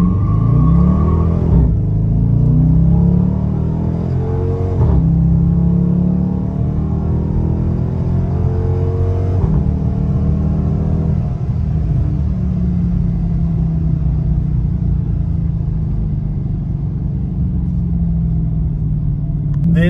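A 2023 Dodge Charger R/T with its Hemi V8 pulls hard from a standstill, its loud engine rumble climbing through several rising pitch sweeps broken by gear shifts, heard up close and without talk.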